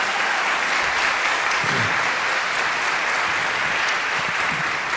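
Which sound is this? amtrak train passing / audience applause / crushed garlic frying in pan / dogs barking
audience applause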